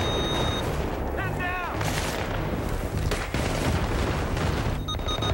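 Dense, continuous gunfire and battle noise from the Battlefield 3 video game with a tank present, loud throughout with bursts of shots and booms, under excited voices of players talking.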